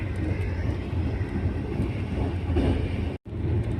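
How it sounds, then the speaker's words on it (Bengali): A fast-moving passenger train rumbles along steadily, a loud continuous roar with clattering undertones heard from onboard, briefly cut by a sudden short dropout near the end. "প্রচুর জোরে ট্রেনটা যাচ্ছে"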